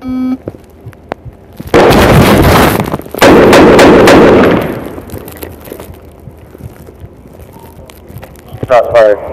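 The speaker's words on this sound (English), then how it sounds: "Shots fired." Gunfire during a police encounter, recorded from a dash cam: two long, loud bursts of rapid shots, the first lasting nearly two seconds and the second about one and a half, followed by quieter sounds and brief voices.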